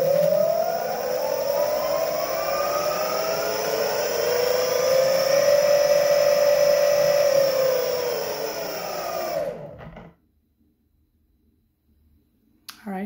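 A Meepo electric skateboard hub motor spins at low speed with a steady whine that slowly rises and falls in pitch for about ten seconds, then cuts out abruptly, leaving near silence before a faint click at the end.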